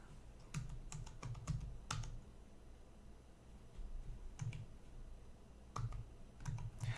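Password keystrokes on a computer keyboard, arriving in short bursts of sharp clicks separated by pauses, close and fairly quiet over a low background hum.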